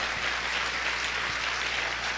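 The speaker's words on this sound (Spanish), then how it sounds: "A ver, aplaude fuerte a tu Dios en esta hora." Sustained applause from a church congregation, an even, dense patter of many hands clapping throughout with no pauses.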